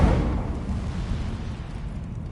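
An Incendio fire spell cast in the Hogwarts video game makes a loud, dense whooshing roar that stays steady for a couple of seconds, with a heavy low rumble and a broad hiss above it.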